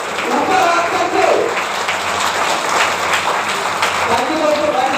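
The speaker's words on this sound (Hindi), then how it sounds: "एक बार खड़े होकर जोरदार अपने कुर्सी के पास ही खड़े होकर जोरदार तालियां बजाइए दोस्तों" An audience at a business meeting stands and claps loudly, a dense, steady roar of applause filling the room for the whole stretch, with a voice faintly audible beneath it.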